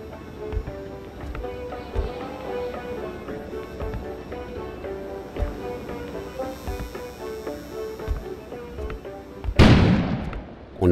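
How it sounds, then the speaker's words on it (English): A sudden blast erupts outside in the video game Kona, a loud burst near the end breaking through steady game music with rhythmic thuds. "On aurait dit qu'une explosion avait soufflé dehors."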